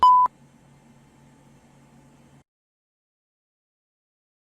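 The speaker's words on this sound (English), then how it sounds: "Leave your message after the beep." An answering machine sounds one loud, steady electronic beep at the start, followed by a faint low hum that ends in silence.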